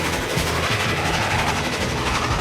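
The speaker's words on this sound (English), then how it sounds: "the Union Pacific Challenger 3985 held the title of the world's largest operating steam locomotive for many years" Union Pacific Challenger 3985 steam locomotive, built in 1943: a loud, dense rumble with rhythmic rail clatter, close and continuous over a couple of seconds.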